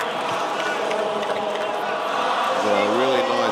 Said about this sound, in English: the crowd's still going on